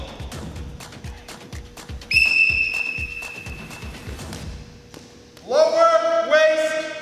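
A referee blows a whistle to start a dodgeball throw in a team field challenge: one long, clear blast over steady low thumping, and a voice rises loudly near the end.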